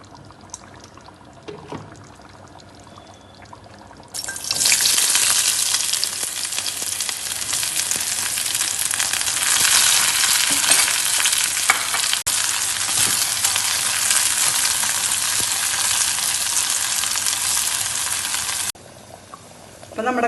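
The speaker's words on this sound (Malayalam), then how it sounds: "ഉള്ളി മൊരിച്ച് നമുക്ക് അതിലേക്ക് ചേർത്ത് കൊടുക്കണം" Onions fry in a pan on the stove, a loud, steady broadband sizzle that starts abruptly a few seconds in and holds for about fourteen seconds before cutting off, with faint background sounds around it.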